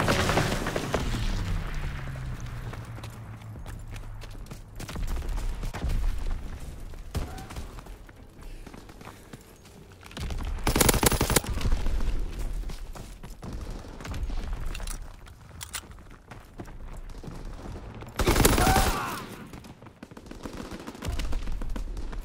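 Bursts of gunfire from an enemy strafing run in a WWII video game set at Pointe du Hoc, with loud broadband volleys near 11 and 18.5 seconds over a steady rumble of battle noise.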